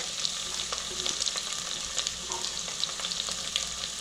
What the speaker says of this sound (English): Now I'm adding the sliced onion.